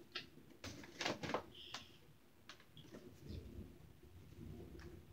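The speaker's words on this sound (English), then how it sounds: "There's a lot of thundering going on outside." Thunder rolls outside during a storm, heard as faint, distant rumbles with a few sharper cracks over steady low background noise, no voices.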